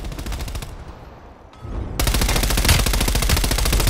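Rapid automatic gunfire in the multiplayer shooter Call of Duty: Black Ops Cold War, loud dense bursts that pause briefly and then resume even more intensely.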